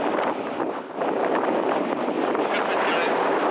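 Strong wind gusts buffet the microphone at a wingfoil spot on the water, a loud, steady roar with a brief dip near the start.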